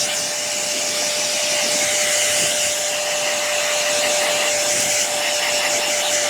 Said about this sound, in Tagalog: Blower ko muna guys